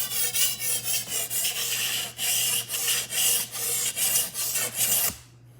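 Japanese knife blade rubbed back and forth on a Kerye whetstone, loud close rasping strokes in a steady rhythm of about two per second, stopping abruptly near the end.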